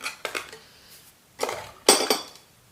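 A spoon clinking against a bowl while stirring a Nescafe coffee hair treatment mixture, several short bright scraping clinks in irregular bursts, close and fairly quiet, with no voices.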